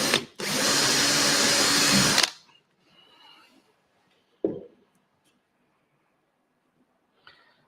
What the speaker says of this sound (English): So I'm just going to put a little hole beside the track in between one of the sleepers just beside the rail.